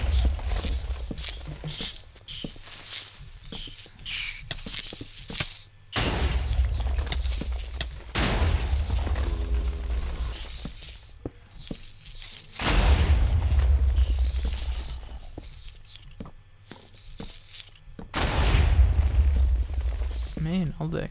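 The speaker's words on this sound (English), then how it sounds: "Man, all the explosions." Explosions from creepers in the Minecraft video game, including charged ones, boom heavily about every six seconds, three deep blasts in all, with footsteps and quieter game noise between them.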